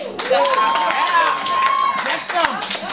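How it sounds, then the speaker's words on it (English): Audience at an underground comedy show in Chicago breaks into steady clapping, with whoops and cheering riding over it for about three seconds. "Feel free to clap"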